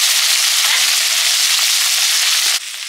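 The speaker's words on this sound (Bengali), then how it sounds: "পুঁটি মাছগুলো ভেজে নিচ্ছি" Small puti fish fry in hot oil in a pan, a loud, dense, continuous sizzle close up, dropping slightly in level near the end.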